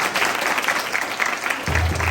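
An audience claps for a group of primary school children at a cathedral school event, steady applause filling the room for about two seconds, with a low rumble rising near the end.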